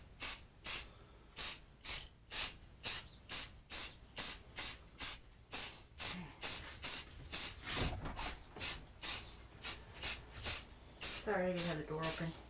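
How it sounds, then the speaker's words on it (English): A spray paint can hisses in about two dozen short, evenly spaced bursts close by while an eagle address sign is painted, with a brief voice near the end. "I probably don't have to talk about having a light touch with the spray can"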